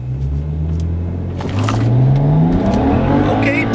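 A BMW 135i with a twin-turbo N54 engine and new spark plugs and ignition coils launches hard in a 0-60 run. The loud engine note climbs steadily in pitch as the car pulls through the gear.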